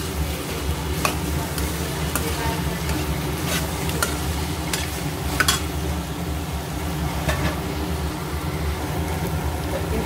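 Fresh ginger garlic paste frying in a pan for a brinjal, potato and tomato curry, a steady hiss of sizzling oil with occasional spatula scrapes and stirring clinks, no talk.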